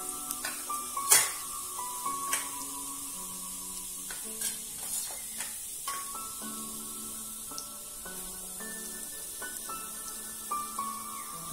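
Cumin seeds and asafoetida sizzle steadily in hot oil for a pulav, with a sharp spatter early on and occasional scraping stirs against the pot; a continuous frying hiss runs underneath, with no talking.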